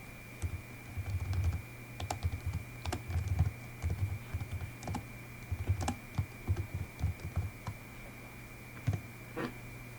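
Nearby computer keyboard typing sounds in irregular bursts of clicky keystrokes as a command is entered, with short pauses and a steady electronic hum underneath.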